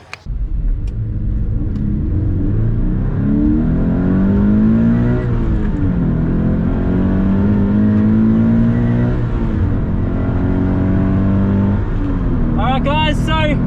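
A Subaru BRZ idles and revs while warming up on the Phillip Island race track, its steady engine rumble loud and close with rising and falling rev sweeps, and someone talks over it throughout.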